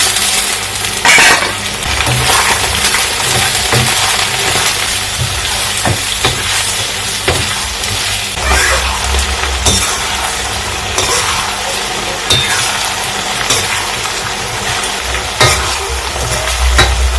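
Onions frying golden brown in a pan with carrots, peppers and peas for fried rice give off a steady, loud sizzle, with occasional stirring scrapes and clatters throughout.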